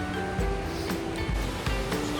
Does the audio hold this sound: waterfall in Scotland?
yes